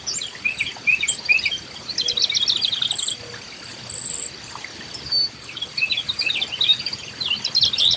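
A northern cardinal sings in a backyard with short, bright whistled phrases repeated in bursts, over a constant thin chorus of insects.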